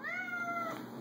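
A single drawn-out cat meow, close and clear, rising and falling over about a second with no talk over it.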